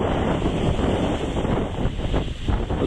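From a boat on the open sea, forty-foot ocean waves surge and wash under loud, buffeting wind noise across the microphone, a dense continuous roar with no talking.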